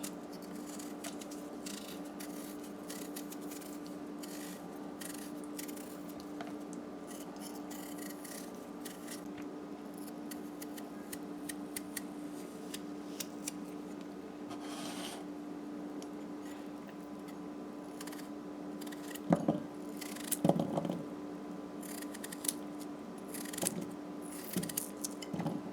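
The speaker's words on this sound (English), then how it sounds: "So time to peel our potatoes." Potatoes being peeled by hand in a home kitchen: a steady soft scraping and rubbing runs throughout, with a few sharper knocks and clatters near the end, under a constant low hum.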